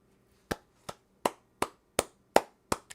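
Eight sharp, evenly spaced hand claps ring out close and clear in a steady rhythm, each a crisp isolated smack with nothing else heard in between.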